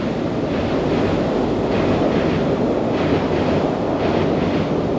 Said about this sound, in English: we've got another train heading over the top of us. Freight train.